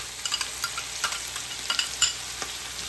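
Ginger frying and being stirred in a pan for chicken curry, a soft steady sizzle broken by irregular light scrapes and clicks of a spoon, fairly quiet with no voices.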